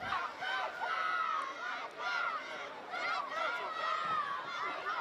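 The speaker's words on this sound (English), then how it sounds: "I think I can hear some young South supporters in the crowd as well." Young Souths United supporters cheer and shout from the sidelines at the Kappa Women's Super Cup Final football match, a steady crowd noise with high, excited voices rising and falling throughout.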